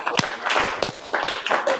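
Scattered clapping from an audience joining a call, a few uneven claps and taps in quick succession, thin and fairly close, with faint voices mixed in.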